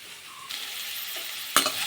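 Mashed tamarind and tomato frying in a pan for vegetable sambar, a soft steady sizzle with a sharp scrape of stirring near the end.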